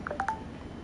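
A smartphone keypad gives three quick bright beeping tones in succession, close and moderately loud, followed by quiet room noise.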